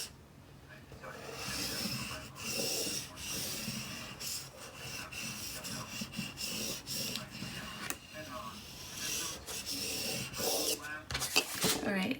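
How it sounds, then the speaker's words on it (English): Paint being scraped down on a DIY painted fall sign: steady rasping scrapes with rhythmic strokes and brief clicks, close and moderately loud, running through the whole stretch without talk. "Just make sure it's all scraped down."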